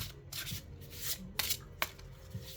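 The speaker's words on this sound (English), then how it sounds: "All right, so they do overhand shuffle nicely." An Animal Guides tarot deck of 78 cards is overhand shuffled close by, giving soft gliding riffles and rubs broken by a few sharper card slaps, with nobody talking.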